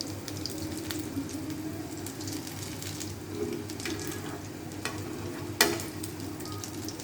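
Potato chicken kababs shallow-fry in a pan over moderate heat, giving a soft continuous sizzle with occasional crackles and one sharper clatter, fairly quiet, with no talking.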